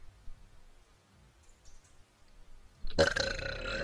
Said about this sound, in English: That was a nice burp, by the way.